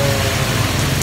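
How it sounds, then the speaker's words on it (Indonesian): Heavy rain pours steadily and loudly in Cilandak, a dense, unbroken wash of drops drumming on surfaces close by with no voices. "Hujan deras nih."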